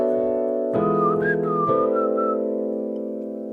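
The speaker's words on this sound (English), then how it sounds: "I'm going to whistle the melody." Someone whistles a short, gliding melody over sustained chords of a neo soul progression, the whistle riding clearly on top of the steady harmony.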